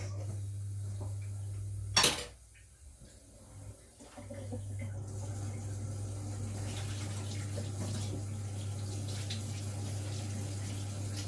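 Tap water runs steadily into a sink while carrots are washed, a continuous wash of water with a brief loud clatter near the start, then the flow resumes with faint handling noises.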